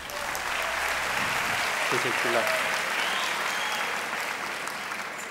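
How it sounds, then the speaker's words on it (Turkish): A talent-show audience applauds a magician's trick with continuous, fairly full clapping throughout. Someone briefly speaks over it near the middle. "Sıkı bir alkış hak ediyor efendim."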